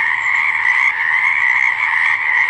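Frogs croak in a loud, steady chorus that rings on without pause, close and continuous, with no voices.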